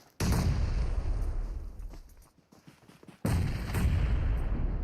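Two heavy grenade blasts boom in PUBG Mobile during a duo tournament match, each followed by rumbling gunfire and debris, with a quieter spell of scattered shots between them.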